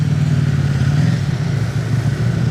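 A Ferrari Enzo's engine sounds close and steady at an auction event in Monaco, a continuous low mechanical rumble with a broadband roar throughout and no voices.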